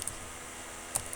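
A couple of isolated, soft keystrokes on a computer keyboard while Python code is written, quiet clicks over a faint steady room hiss.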